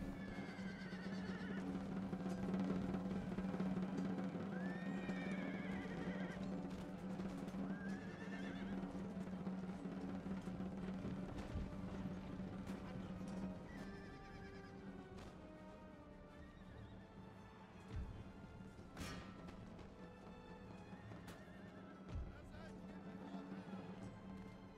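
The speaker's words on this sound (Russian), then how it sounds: "Сейчас конница выходит." Cavalry horses in Empire: Total War whinny and neigh repeatedly over a steady galloping clatter and battle din, with occasional thuds and people talking throughout.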